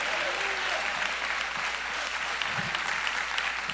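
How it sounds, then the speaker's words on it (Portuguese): A church congregation claps warmly during a preaching service, a steady, dense, continuous wash of applause throughout, fairly close and full, with a brief low thump near the end. "as palmas bem forte para Jesus, bem alegre."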